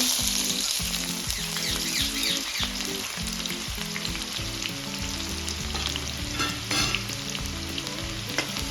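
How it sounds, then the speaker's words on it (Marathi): Onions sauté in a pan with whole spices for a chicken fry, giving a loud, continuous close-up sizzle with frequent scraping stirs throughout. "आता आपल्याला इथे कांदा छान परतून घ्यायचा आहे गोल्डन कलर येईपर्यंत"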